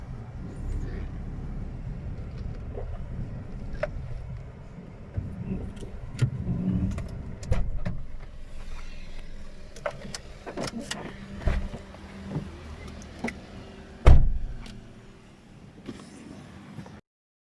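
A car pulled over and parked at the roadside, engine rumbling low with scattered knocks and clicks, then a sharp door-like thud near the end before the sound cuts to silence.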